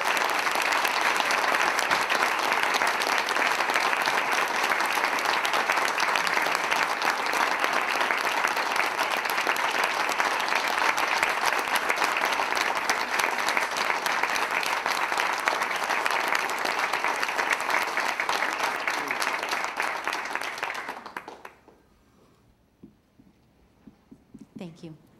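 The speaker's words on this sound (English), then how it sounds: "Round of applause." At a school board meeting, an audience gives a long, even round of applause lasting about twenty seconds, then it cuts off abruptly into a quiet room with faint stray sounds.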